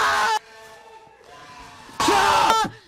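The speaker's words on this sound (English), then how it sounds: "I tend to scream when I get scared." A man lets out two loud, strained screams of fright, each about a second long, with a quieter stretch between them.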